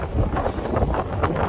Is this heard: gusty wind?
yes